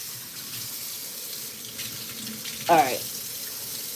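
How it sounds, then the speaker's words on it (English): Cold water runs steadily from a tap as a continuous broad hiss, with a brief louder splash or gurgle near the end; a voice speaks briefly over it. "I'm about to add some cold water to it"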